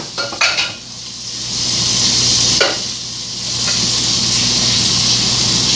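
Shepherd's pie filling sizzles and hisses steadily in a frying pan, with a few clinks and scrapes of stirring near the start and once midway.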